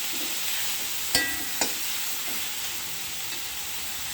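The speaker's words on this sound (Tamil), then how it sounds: "தக்காளி வணங்கினது கத்திரிக்காயை போட்டு நல்லா கிளறி விடும்." Brinjal fries with sautéed tomatoes in a pan, giving a steady, close sizzling hiss broken by a couple of brief spatula knocks as it is stirred.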